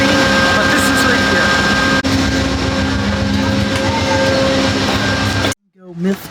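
Train rumbling past in a train simulator game at a Montpelier Berlin, Vermont station, a loud continuous rolling roar with steady tonal hum that abruptly cuts off near the end, followed by a brief faint sound.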